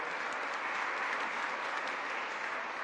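A parish congregation claps together in a steady, dense wash of applause at moderate distance, with no clear talking over it.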